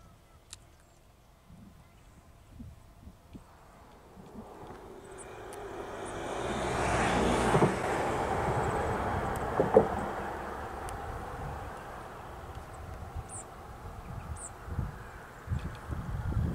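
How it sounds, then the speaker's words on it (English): A coal train at Lochinvar rumbles past from a distance, its broad roar swelling from quiet to a sustained peak before slowly easing off. "There's a train coming."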